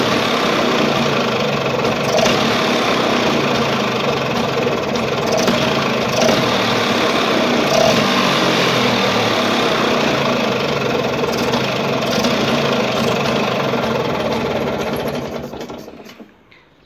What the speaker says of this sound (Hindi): जैसे मैं एक्सीलरेट कर रहा हूँ ना, तो गाड़ी फट से उठा रही है